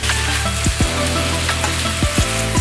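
Shredded cabbage hits a hot pan already frying red pepper for chicken chow mein, giving a loud, steady sizzle with crackling pops and occasional utensil clinks close by, no voices.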